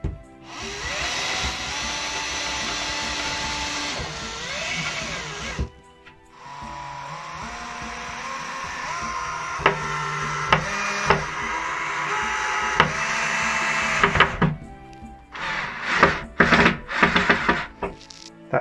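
Power drill countersinking a hole in wood while building shelves, its motor whining in sustained bursts with brief pauses and a few sharp knocks near the end.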